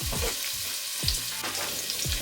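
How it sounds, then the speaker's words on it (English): Onions sizzle loudly in a hot frying pan, a steady crackling hiss with occasional soft pops and scrapes, close by and with no voices. "in with the onions. You should immediately hear them start sizzling."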